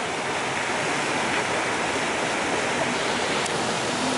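Cold mountain water rushes and splashes continuously close by, a dense steady roar like a small waterfall or fast stream, heard alone without talk.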